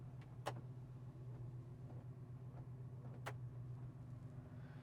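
Windshield wipers on a 1981 Chevrolet C10 truck sweep across the glass with two soft swishing passes a few seconds apart, over a low steady engine idle heard from inside the cab.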